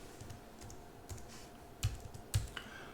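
Sparse keystrokes on a computer keyboard at a Linux Mint desktop: faint, scattered taps, then two sharper, louder clicks about half a second apart, close by over a quiet room hiss.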